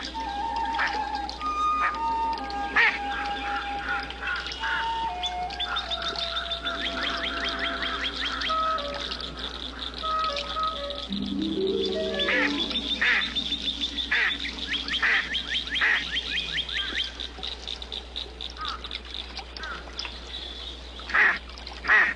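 A big mallard duck with an injured wing quacks repeatedly outdoors, loud rhythmic bursts of nasal calls in runs, near and clear above a low constant background hum.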